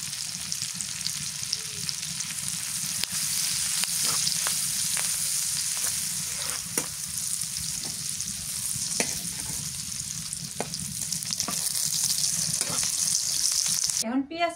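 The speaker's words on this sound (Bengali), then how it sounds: "এখন পেঁয়াজ কালি ভাজি করে নি" Onion stalks fry in mustard oil in a pan, a continuous sizzle with scattered clicks and scrapes of stirring that runs steadily for over ten seconds, close by, ending in a short rattle.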